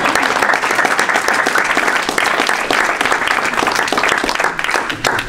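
Sustained, loud applause from an audience at a Hinduism forum, filling the whole stretch with dense, steady clapping that neither builds nor fades.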